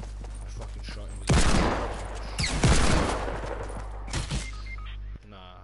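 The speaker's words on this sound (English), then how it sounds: "I fucking shot him." Bursts of gunfire in the battle royale game Fortnite Season 4 erupt in a loud volley, then a second longer burst and a brief trailing shot, over a steady game hum.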